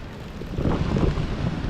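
Sea waves surge steadily onto an eroding shore where the old sea wall has long since gone, forming a continuous broadband rumbling wash mixed with wind buffeting, with no voices.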